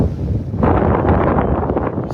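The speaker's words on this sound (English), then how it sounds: "That wind is wicked in through here." Strong wind buffets the microphone on a soft, soggy Florida beach in North Naples, a loud continuous roar with gusty rumbling throughout.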